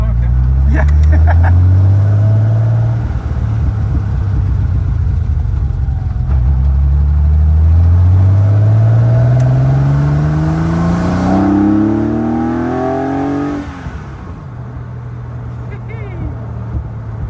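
A road-legal Porsche 917 Le Mans race car drives on a public road, its loud engine climbing through rising revs in two long pulls, then dropping as it shifts and settles, heard from close inside the car.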